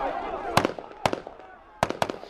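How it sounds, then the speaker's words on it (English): Soldiers firing guns into the air: about five sharp cracking shots in an irregular rhythm, two pairs close together, fairly near and loud against a quiet background. "Soldiers firing in the air"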